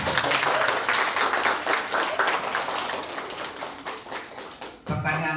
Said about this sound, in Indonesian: Kita tepuk tangan ibu dan bapak.